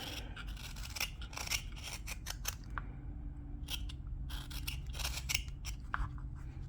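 A knife carves wood by hand, taking off the corners of an open-book carving, with repeated short scraping and slicing strokes close by in uneven bursts and brief pauses between them.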